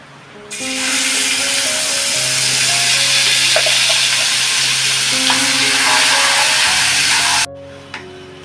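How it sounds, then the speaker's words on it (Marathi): Masala sautés in a little oil for corn masala, a dense, close sizzle that starts abruptly, holds steady for about seven seconds over a low tonal drone, then cuts off. "थोडंसं मी तेल टाकलेलं आहे आता याच्यामध्ये ना मी मसाला हा परतून घेते"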